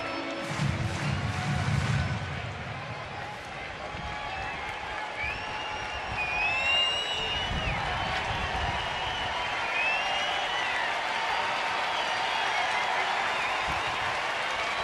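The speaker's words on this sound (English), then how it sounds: "Late arriving crowd because of the early start, but they're making themselves known here as Napoli steps out." Applause and cheering from a late-arriving crowd at a Red Sox versus Rangers baseball game in Texas, a steady distant roar with whistles, heard under a broadcast announcer's voice.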